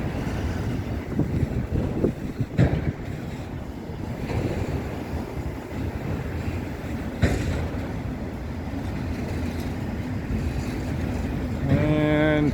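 Freight train on a Lake State Railway shortline, rolling past with a steady broadband rumble, wind buffeting the microphone, and a few louder clanks, ending with a rising horn-like tone near the close.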